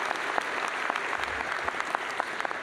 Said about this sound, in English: If everybody could give Mindy a round of applause for everything she does.